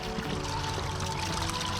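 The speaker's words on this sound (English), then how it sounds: "let them soak in the water for a little bit" Licorice fern roots, still caked with soil, sit soaking in water, giving a steady close wash of splashing and trickling with no pauses and no voices.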